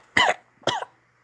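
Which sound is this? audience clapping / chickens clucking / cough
cough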